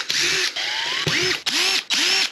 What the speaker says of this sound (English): First thing that I'm going to do is get these Phillips head screws taken out so that I can get better access to the gears and pull the motor out.